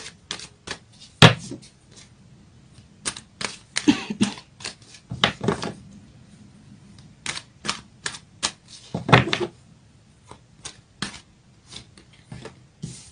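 Astrology cards are handled and shuffled nearby in a quiet room, making irregular crisp clicks, snaps and short rustling bursts with brief pauses between them.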